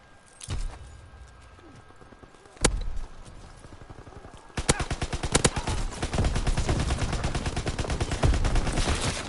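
Two isolated shots crack out in Call of Duty: WWII, then rapid automatic gunfire starts and keeps going in a fast, steady rattle, moderately loud.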